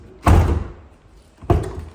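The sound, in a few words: Honda Integra car door lock working smoothly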